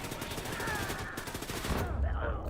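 Very loud gunfire from a weapon in Wolfenstein: The New Colossus, a dense rapid burst of shots that fills the whole moment before a heavier low boom near the end. No voices are heard.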